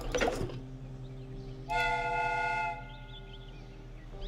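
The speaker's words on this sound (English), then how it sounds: "The steam whistle is ready to be used." A steam train whistle in a Sherlock Holmes video game sounds one sustained, bright chord for about a second after a short clatter, over a steady low mechanical hum.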